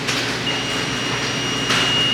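A steady high-pitched multimeter continuity buzzer tone, triggered by a laser cutter at full power, holds for about two seconds over a low background hum.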